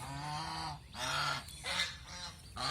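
Several geese sitting on eggs honk loudly and close by in repeated bursts, their nasal calls overlapping with short pauses between them.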